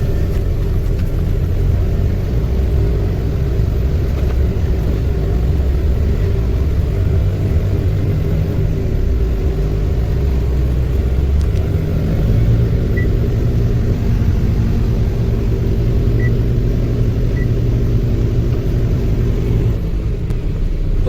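A car drives steadily along a hilly road for about twenty seconds, with a continuous low engine and tyre rumble from inside the vehicle and no talking.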